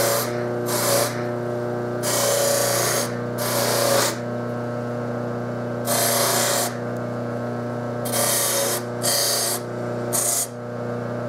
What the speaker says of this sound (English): That's about all it takes to buff off a thin layer of solder.